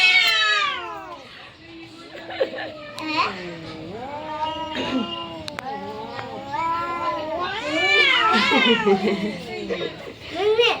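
Cats meow and yowl repeatedly at close range, drawn-out wavering cries overlapping one another, with children's voices mixed in.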